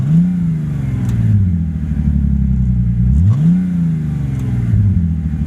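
Bentley Continental GT engine in worn condition revving hard twice, each rev rising then falling in a smooth swell over a deep steady idle, loud and close with no voices.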